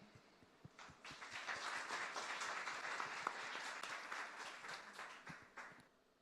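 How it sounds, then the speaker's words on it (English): An audience gives a round of applause at a meetup in Seoul, starting with scattered claps, swelling into a full dense ovation, then thinning out to a few last claps as it fades. "Welcome Ambreen with a round of applause."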